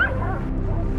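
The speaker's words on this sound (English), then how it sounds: "The hunting dogs surround and corner the wild boar" Hunting dogs chasing a wild boar in rugged mountain country give a short burst of yelping, whining barks, close and overlapping, over a rough background.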